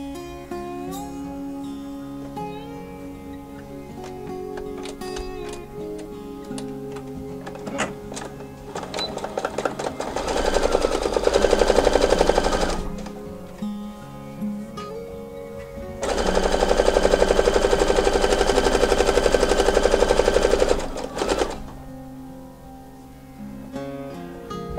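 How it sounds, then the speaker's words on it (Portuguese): A sewing machine stitches one side of a fabric turban headband in two loud sustained bursts of rapid mechanical whirring, separated by a pause and quieter handling sounds, with no speech. "A gente vai costurar todo um lado da nossa faixa, vai costurar todo um lado e depois todo o outro."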